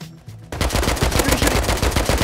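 Rapid bursts of automatic gunfire from a firefight in the survival video game Rust, starting after a brief quiet moment and then pounding steadily and loudly with dense, repeated shots.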